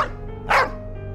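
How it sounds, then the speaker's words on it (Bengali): A dog gives a single short bark at a quiet small-town railway station, preceded by a faint yip, with no voices. "শুধু মাঝে মধ্যে কুকুরের ডাক শোনা যায়।"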